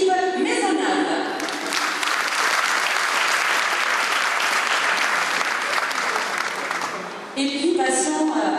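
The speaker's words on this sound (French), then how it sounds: "Je vous demande s'il vous plaît d'applaudir Philippe Maisonnave." A theatre audience in Pomarez applauds Philippe Maisonnave at the 2012 cuadrilla presentation, a dense sustained wave of clapping that swells after a brief spoken opening and dies away near the end as talk returns.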